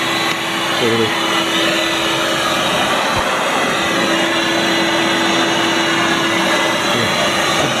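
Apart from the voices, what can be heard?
Bernoulli blower switched on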